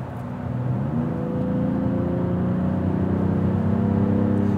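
A 2022 BMW Alpina XD4 SUV cruising, a steady low engine hum and smooth tyre rumble heard from inside the cabin, even and continuous without sharp revving.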